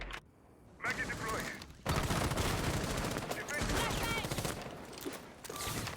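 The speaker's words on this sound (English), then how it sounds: "See the gunfight pursue with the Jaeger in Kafe here" A gunfight in Rainbow Six Siege on the Kafe map, with a Jaeger player engaged. Bursts of rapid gunfire and volleys of shots fire one after another. A commentator's voice runs underneath.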